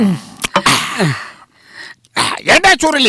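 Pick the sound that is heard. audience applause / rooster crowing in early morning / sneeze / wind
sneeze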